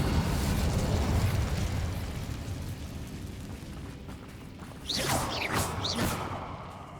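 Incendio fire spell cast in Hogwarts Legacy, a roaring whooshing burst of flame that fades, followed by a second sharper crackling blast with bright whistling streaks.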